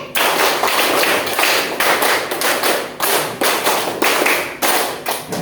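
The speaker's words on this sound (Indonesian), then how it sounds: "tepuk 5 3 kali." A classroom group claps a five-beat pattern three times over at a teacher training session in Gorontalo, sharp loud claps grouped in clear bursts with short gaps between each set.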